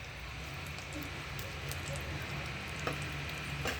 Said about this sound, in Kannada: ಒಂದು 30 ಸೆಕೆಂಡ್ಸ್ನ ಸ್ವಲ್ಪ ನಾವು ಫ್ರೈ ಮಾಡ್ಕೊಳಕ್ಕೆ ಬಿಡ್ಬೇಕು ಅದನ್ನು